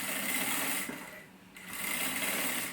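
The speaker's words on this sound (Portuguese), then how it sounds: "Cheguei aqui no risco, venho de novo com a costura." Sewing machine stitching quilted matelassê fabric along a marked line, a steady close mechanical whir that eases briefly mid-run and then picks back up to full speed.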